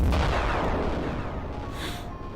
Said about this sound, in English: Explosion effect's still ringing.